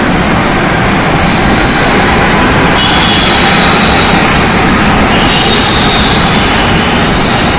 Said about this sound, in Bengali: গাড়ির হর্ন কি জোরে জোরে বাজানো হয় এবং কি পরিমাণ, মানে অযথা হর্ন বাজানো তালেই থাকে।